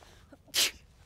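A single short, sharp sneeze sounds close by over a quiet background at a campfire.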